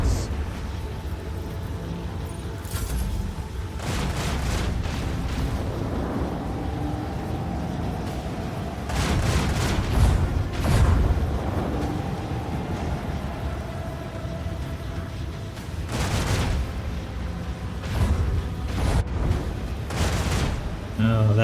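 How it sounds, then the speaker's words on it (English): Macro cannons fire in the Warhammer 40k: Rogue Trader video game as a string of heavy booming blasts with rumbling tails, spread across a continuous din of battle and music. "I want to hear the macro cannons roar!"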